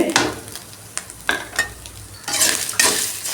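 Grated coconut sautés in a pan for a horse gram chutney, crackling and sizzling while a spoon stirs and scrapes in a few sharp bursts close up.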